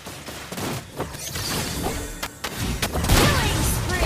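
Rapid gunfire and booming impacts crowd a video game match, a dense burst of shots and thuds at moderate loudness throughout.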